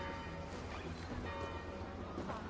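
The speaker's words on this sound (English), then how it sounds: "Do you not hear the bells?" Church bells tolling in Assassin's Creed Valhalla, a steady, dense ringing wash that fills the scene at a moderate distance, with no clear pauses between strokes.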